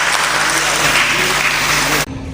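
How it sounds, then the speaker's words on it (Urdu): A hall audience at a book launch on the history of Moradabad gives loud, dense applause, a continuous wash of many hands that cuts off abruptly just before the end. "تالیاں بجا دیجئے"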